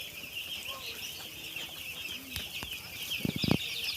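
Broiler chickens raised on straw bedding in a poultry farm shed of over a thousand birds cluck in a low, constant background hum, with a few louder clucks and brief flutters near the end.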